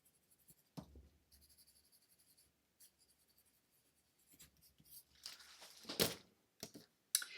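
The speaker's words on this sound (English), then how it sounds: "And I'm just writing that down." Handwriting notes with a pen on paper, soft scratchy strokes in quiet short bursts, close and faint, with a louder scrape near the end.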